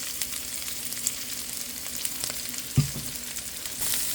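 Pork cubes with black pepper frying in a pan, a soft steady sizzle at moderate distance with a single sharp clank of a utensil partway through, no talking.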